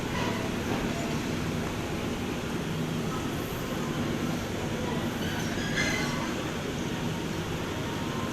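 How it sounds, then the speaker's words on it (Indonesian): The KA Pandalungan passenger train begins reversing along track 2 at Jember station, giving a steady loud rumble of wheels and carriages with faint squeals, and no voices. "Oke, kereta api Pandalungan sudah mulai mundur"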